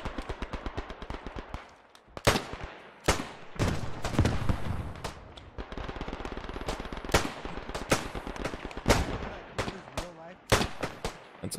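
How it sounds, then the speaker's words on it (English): Cannon fire booms amid World War I combat in the video game Beyond the Wire, a few heavy blasts over continuous rattling machine-gun and rifle fire, loud and close throughout. "That's a fucking cannon."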